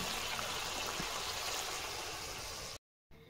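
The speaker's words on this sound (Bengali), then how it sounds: "লোটে মাছের ঝাল হয়ে গেছে, ঢেলে নিচ্ছি।" Lote fish curry is poured from the pan into a serving dish as a steady, close liquid rush that stops abruptly near the end.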